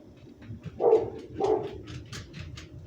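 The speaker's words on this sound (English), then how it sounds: "Sorry about our doggies." Pit Bull Labrador mix dogs bark indoors, a few muffled, medium-loud barks at a slight distance, with scattered smaller yips and noises between them.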